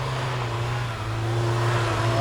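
An SUV engine revs hard as it climbs a hill, a loud sustained drone with rising tone, while people talk nearby.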